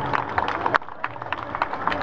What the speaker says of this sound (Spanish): vamos a regalarle un fuerte aplauso